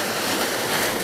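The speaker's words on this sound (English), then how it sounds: "the noise that is going on here is an overflow from this reservoir" Fresh water overflows from a reservoir into a stream, producing a loud, continuous broadband rush like surf or a waterfall. It sounds close and steady, with no voices.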